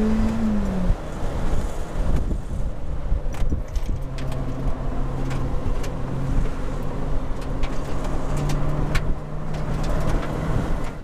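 A Honda Prelude on Hankook Ventus RS4 tires driving hard around a race track, its engine droning steadily from inside the cabin with wind noise and shifting engine pitch, and no voices.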